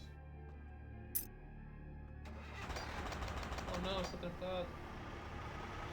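A car engine in the video game Vampire Bloodlines starts up and runs at a rough mid-pitched idle after a quiet stretch with a brief click, while someone speaks over it.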